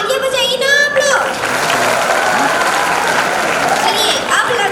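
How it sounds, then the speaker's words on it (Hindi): An audience at a college freshers' event for civil engineering students breaks into loud, sustained clapping and cheering. A voice talks over the start, and other voices rise near the end. "तो तालियां बजाइए ना आप लोग।"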